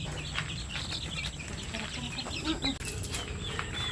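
Baby chicks peep and chirp in a busy cluster while being moved to a new pen, with some rustling and flapping close by and a voice speaking over the chatter.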